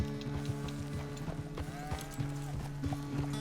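In Red Dead Redemption 2, a horse's hooves beat a steady clip-clop at a walking pace, close by, over a low sustained musical drone with faint creaking tack.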